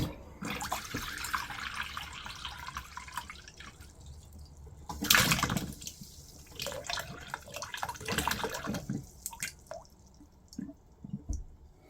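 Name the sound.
water running from caravan bathroom tap during drain down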